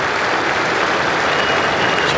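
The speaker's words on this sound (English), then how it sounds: "Some rousing applause for him." Cricket crowd at an England v India Test match applauding the bowler James Anderson, a dense, loud, steady wash of distant clapping and crowd noise with no break.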